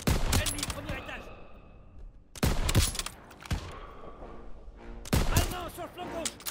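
Repeated bursts of rapid gunfire in the video game Call of Duty: WWII, loud and close, separated by short pauses with some echoing clatter and faint voices in between.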